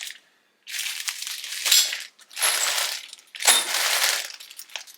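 Metal bolts for a 1969 Triumph GT6 Mk2 restoration rattling and clinking as a handful is sorted through, in three close bursts of jangling with short pauses between.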